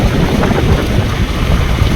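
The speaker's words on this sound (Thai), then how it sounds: "ยังมีฝนอยู่" Rain falls steadily and loudly in Laos, making a dense, unbroken hiss that fills the whole stretch with no voices.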